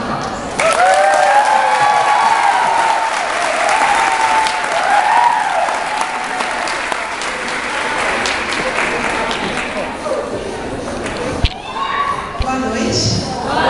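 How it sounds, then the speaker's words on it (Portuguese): A large audience greets a speaker at an academic week event with loud, sustained applause lasting over ten seconds, with whoops and cheers on top, tapering near the end before a sharp thump and a voice starting to speak. "eu peço uma calorosa salva de palmas"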